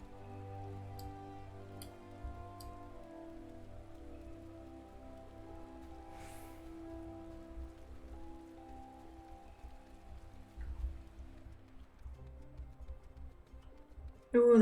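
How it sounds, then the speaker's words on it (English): Rain falling in the video game Final Fantasy XIV, a soft steady patter of drops at low volume alone throughout, with a faint musical tone in the background. "Ooh, the rain suddenly is so silent."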